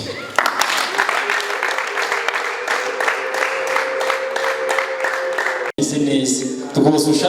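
Wedding guests applaud in a dense, steady wash of clapping that runs several seconds, then gives way to a brief break and a burst of voices and music near the end.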